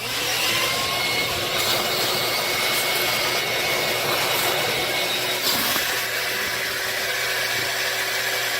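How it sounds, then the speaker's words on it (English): A household vacuum roars continuously and loudly as it sucks water out of a home air conditioner's drain escape valve, with a steady airy whine throughout. "I'll stick in my vacuum in here and suck as much water out as possible"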